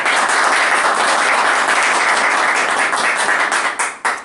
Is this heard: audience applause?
yes